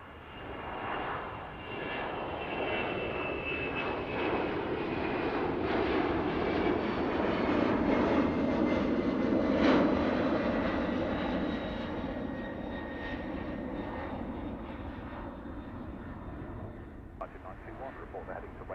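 An airliner takes off from runway 09 right at Heathrow Airport, its engines a broad, distant rumbling roar that swells and then slowly fades, with radio chatter heard faintly over it.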